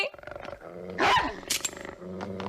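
A cartoon dog in a Hindi-dubbed Doraemon episode growls and snarls loudly, a rough rumbling growl rising to a sharp bark-like burst midway, close and alone.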